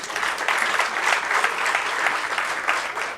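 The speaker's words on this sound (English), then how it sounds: "Another round of applause for learners" Audience applause for learners at a pilot project ceremony: a steady, dense round of clapping from a sizeable crowd, even in level for several seconds with no talking over it.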